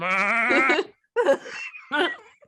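A person imitates a goat's bleat with wavering, nasal cries in three bursts separated by short pauses. The voice is close and fairly loud.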